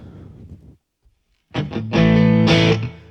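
A guitar played through the overdrive channel of a Fuchs Overdrive Supreme amplifier, a short driven riff after a pause, then a thick sustained distorted chord ringing loud with rich harmonics before fading.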